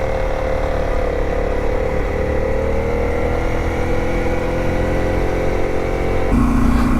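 A dual sport motorcycle engine drones steadily at cruising speed on an Idaho backcountry road, close and loud, its pitch holding then shifting as the rider changes gear near the end.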